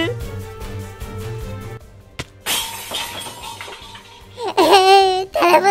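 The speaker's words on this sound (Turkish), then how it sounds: "Telefonu kırdı bu." A phone smashed in the Minecraft game, a sharp shattering crash amid music and excited chatter, followed by a burst of loud cartoonish sound effects.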